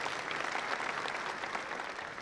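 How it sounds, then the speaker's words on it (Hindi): Steady, even applause from a political gathering audience welcoming senior advocate H.S. Phoolka, dense clapping throughout, moderately distant with no voices above it. "ऐसे सीनियर एडवोकेट एच.एस. फुल्का जी का हम ताली बजा के जोर से स्वागत करते हैं"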